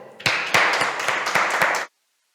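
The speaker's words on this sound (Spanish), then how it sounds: "Nos despedimos con un aplauso" Applause from a small audience at the close of a Bible reading and prayer session, a short burst of dense clapping with sharp individual claps that stops abruptly.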